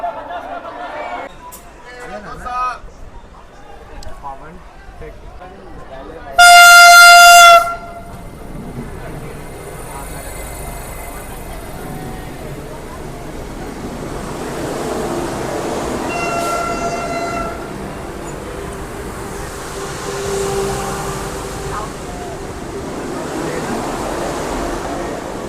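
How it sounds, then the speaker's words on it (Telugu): At Gudur station, the SMT Bengaluru–Guwahati Express rolls into platform 2 with a sustained rumble of wheels and carriages. A loud horn blast cuts in partway through, and someone talks throughout on the platform. "ప్లాట్ఫామ్ 2 కానీ చూసుకుంటే మనకు వచ్చేసి SMT Bengaluru Guwahati express train అయితే వచ్చింది"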